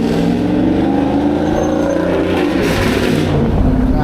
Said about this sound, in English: I'm so sick of freaking loud ass cars